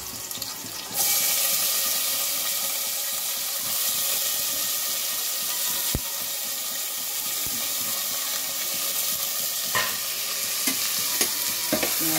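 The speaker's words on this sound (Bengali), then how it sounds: "পেঁয়াজটা ভালো ভালো করবো।" Onions sizzling in a hot pan while cooking lauki chana dal, a loud continuous frying hiss that starts abruptly and holds steady, with occasional stirring scrapes and crackles.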